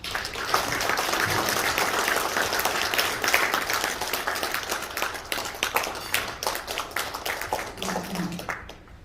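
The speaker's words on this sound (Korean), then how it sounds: "목사님 등단하실 때 다 같이 박수로 환영하겠습니다" A congregation at a New Year worship service in a Seoul hall gives sustained applause to welcome a pastor to the stage, dense clapping that tapers toward the end.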